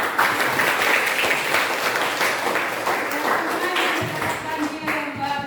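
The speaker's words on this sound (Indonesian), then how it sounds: "untuk pembelajaran hari ini tepuk tangan dulu buat kita" Students applauding at the end of a school lesson in a classroom, a loud mass of clapping that fades somewhat, with voices mixed in underneath.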